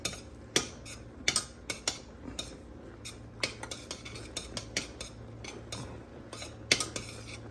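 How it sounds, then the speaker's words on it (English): A spoon scrapes and clinks against a pot as organic oatmeal is stirred on the stove. The taps come close together in an irregular rhythm over a low, steady cooking hum, with no talk. "Keep stirring it because you don't want it to stick on the bottom."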